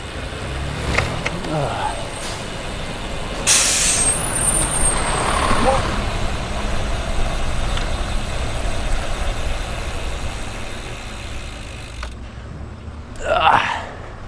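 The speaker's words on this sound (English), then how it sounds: "Watch out for this truck." A large truck rumbles and idles nearby, with a sharp hiss of air brakes and passing traffic noise over a steady low drone.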